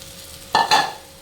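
Washed flattened rice is stirred in a hot pan, with two short scraping, clinking strokes of a spoon against the pan over a faint steady hum.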